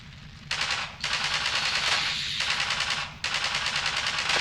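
Sustained automatic gunfire from automated turrets in Half-Life 2, loud and close, in long bursts with brief gaps between them.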